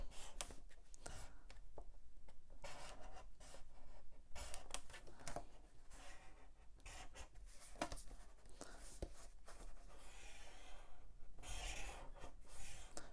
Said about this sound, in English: I'm scoring through both the template, and this is why we print it onto a very thin paper